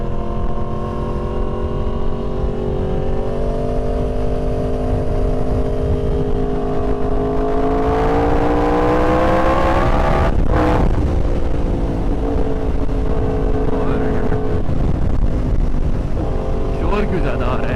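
A Yamaha R1 motorcycle ridden at night, its steady engine drone rising in pitch as it revs up, with heavy wind roar buffeting throughout and a brief gust-like burst midway.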